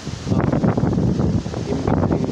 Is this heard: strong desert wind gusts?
yes